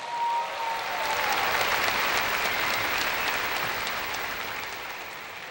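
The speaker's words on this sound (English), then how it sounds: "please, another round of applause" An audience in the stands at a university freshman convocation applauds in a dense, steady wash of clapping that swells and then slowly fades, with no voices on top.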